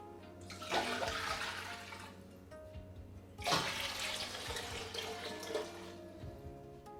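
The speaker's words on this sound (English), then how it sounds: "So first of all, put in the water." Water pours into a pan for making elderflower cordial, a splashing, gurgling stream in two bursts with brief pauses, fairly close and moderately quiet.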